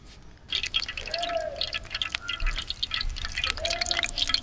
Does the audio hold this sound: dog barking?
no